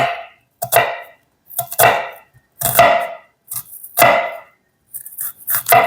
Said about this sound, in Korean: 드레싱에 넣을 양파 다질게요